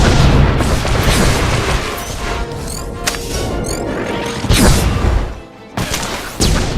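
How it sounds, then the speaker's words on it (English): Loud explosions and weapon blasts from Star Wars The Old Republic combat, with heavy booms, crashing impacts and sharp zapping shots piled up in a dense, continuous barrage that dips briefly before a final hit. "whether or not now's the right time to throw that grenade"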